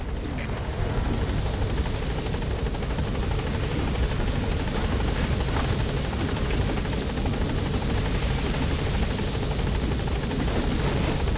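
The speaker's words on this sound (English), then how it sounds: "the chopper's touching down" In Metal Gear Solid V, a helicopter touches down, its rotor thudding in a loud, continuous, close roar of blade chop and engine noise that holds steady throughout.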